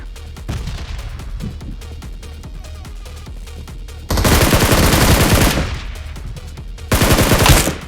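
Automatic gunfire in the battle royale game BGMI (PUBG Mobile): two loud sustained bursts of rapid shots, each about a second or more long, following quieter in-game background sounds.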